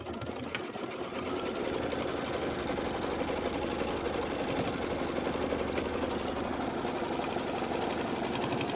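An embroidery sewing machine stitches an outline around a quilted pillow design, a steady rapid mechanical chatter that runs evenly and fairly close throughout.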